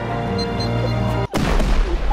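A C4 charge detonating during a base raid in a survival video game, a loud dense blast with a sharp cut to near silence, then a second booming burst that rolls on with rumble.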